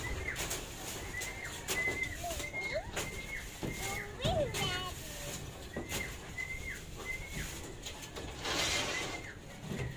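Six-month-old racing pigeons, a flock of about nineteen birds being released to fly from their loft, with bird calls and fluttering over busy outdoor background noise and talk.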